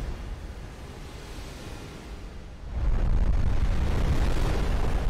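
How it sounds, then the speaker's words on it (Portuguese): A heavy explosion in an animated fight episode between G-Man and the Titans, with bombs flying: a steady rumbling roar that surges into a louder, deeper blast partway through and keeps booming to the end. "A explosão foi muito imensa"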